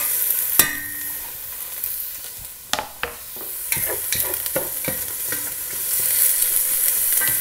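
Onion sautéing in a pan for chili, a steady sizzle with scattered clinks and scrapes of a utensil stirring, close and alone with no talk.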